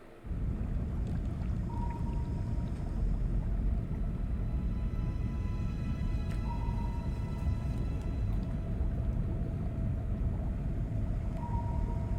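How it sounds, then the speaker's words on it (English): Submarine engines in movie audio, a deep continuous low rumble filling the low end, steady and loud throughout, with faint intermittent tonal hums drifting over it and no talking. "It got really loud, submarine engines going"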